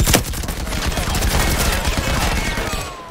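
Gunfire in the online shooter Firewall Zero Hour, on the Heartlands map: a dense, loud stream of rapid shots fired to cover a downed teammate, crackling continuously with no pause for about three seconds.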